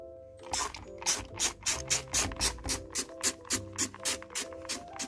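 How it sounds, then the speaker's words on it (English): Flash cleaner containing bleach sprayed from a trigger bottle into a washing machine drawer: about a dozen quick, evenly spaced squirts, close and crisp, over a steady tonal background. "I'm just going to start by spraying the Flash into the washing machine."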